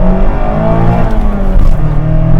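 A 2024 Mazda MX-5 Miata RF GT accelerating hard on a private road, its engine note loud, close and sustained, climbing steadily with a brief dip partway through, no talk over it.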